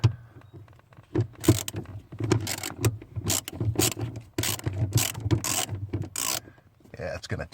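Ratchet working loose 10mm hex head bolts on the pedal assembly of a Ford 7.3 Powerstroke, giving bursts of rapid clicking strokes with short pauses, close and fairly loud with no talking.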